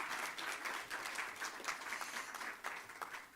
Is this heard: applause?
yes